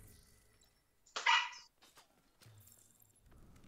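A dog in the video game The Division 2 gives one loud, sharp bark, followed by quieter footsteps and faint game ambience.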